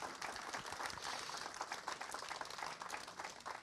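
An audience at a New Year wishes ceremony in Belvédère applauds in a steady, dense wash of clapping that lasts the whole stretch without a break.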